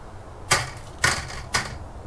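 Three quick, light clattering drops of small dehydrated bell pepper pieces landing on a hard surface, evenly spaced about half a second apart, close and fairly quiet.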